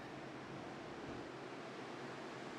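Steady wind blows through the snowy wilderness in the survival game The Long Dark, a constant broadband rush with no gusts or pauses, fairly loud and alone with no voices.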